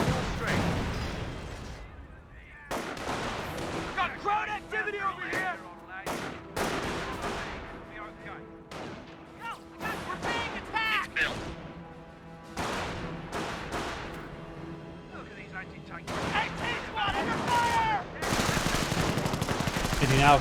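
A sector artillery barrage in Company of Heroes: heavy, repeated booming impacts and bursts of gunfire arriving in irregular clusters, loud and close, with a voice talking between and over the blasts.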